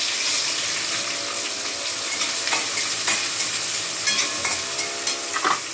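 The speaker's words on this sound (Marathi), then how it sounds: "ते आता तेलामध्ये ना जिरे मोहरी लसूण कढीपत्ता टाकलात मी" Cumin, mustard seeds, garlic and curry leaves sizzle steadily in hot oil while being stirred, a continuous close frying hiss broken by small crackles and pops, no voices.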